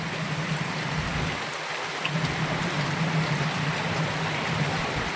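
Steady, even hiss of rain falling, a broad continuous wash of sound with a low rumble underneath, unbroken for the whole stretch and free of voices.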